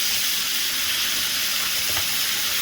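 Calamari frying in a pan with a loud, dense, continuous sizzle close by, stirred and getting crispy, with a faint scrape or stir near the end.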